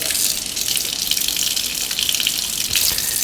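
Hot tap water runs steadily from a kitchen faucet for bread dough, a continuous close hiss and gush with no pauses and no voices.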